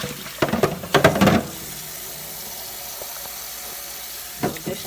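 Refrigerator door drawers being washed with water and dish detergent, with a few short splashing, scrubbing bursts close by, then quiet stretches before another brief splash.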